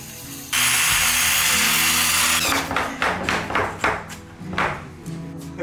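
A power drill drives screws into new oak flooring laid over old tatami, starting with a long steady whir of about two seconds, then a run of short, close, ratcheting bursts and pauses.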